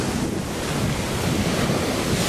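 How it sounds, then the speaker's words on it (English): Indian Ocean surf breaking on a beach close by, a dense continuous wash of roaring water mixed with heavy wind buffeting the microphone, no voices. "I got to get my hand in the ocean. Here it is. That's the wave right there."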